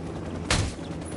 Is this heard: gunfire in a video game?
yes